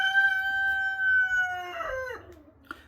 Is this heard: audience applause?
no